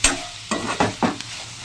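A ridge gourd fry with coriander is stirred in a pan, giving four distinct scraping strokes about a quarter second apart over a faint sizzle.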